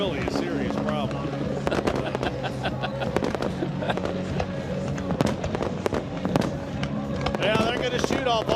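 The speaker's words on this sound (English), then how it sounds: "Now they're going to shoot off all the fireworks that were left" Fireworks are set off at a stadium during an all-star game, with a steady barrage of sharp cracks and booms across the whole stretch and crowd noise and a commentator talking over it.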